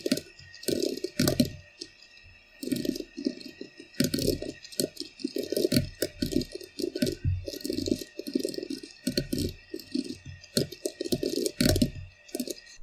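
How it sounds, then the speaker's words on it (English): Someone types code on a computer keyboard, giving close, steady clattering keystrokes in quick bursts with short pauses. No voice is heard. "we're going to type in a if condition"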